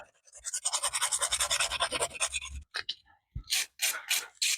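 Sandpaper scrubs rusty trim on a Toyota Land Cruiser BJ73 in quick rhythmic back-and-forth strokes, close and crisp, followed by a few separate scratchy swipes after a pause.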